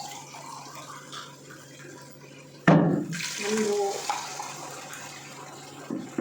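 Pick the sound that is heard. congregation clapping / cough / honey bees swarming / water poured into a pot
water poured into a pot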